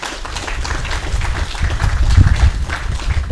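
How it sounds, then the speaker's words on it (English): Crowd claps for a student regent at a UTRGV/HCISD campus groundbreaking ceremony, sustained dense applause swelling louder toward the end, with low rumble underneath and no speech. "That deserves a round of applause"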